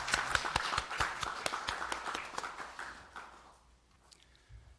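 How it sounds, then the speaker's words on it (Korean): A small group at a presidential meeting of senior aides claps in a brief round of applause, loud at first and then tapering off into quiet. "박수로 환영해 주시기 바랍니다."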